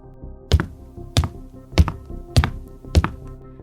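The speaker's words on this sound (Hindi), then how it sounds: "अंदर से किसी के धीरे धीरे चलने की आवाज़ आ रही थी।" Slow footsteps in a horror story: five heavy, evenly paced thudding steps about half a second apart, close and distinct over a low sustained musical drone.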